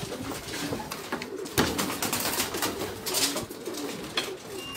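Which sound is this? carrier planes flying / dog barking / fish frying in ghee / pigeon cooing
pigeon cooing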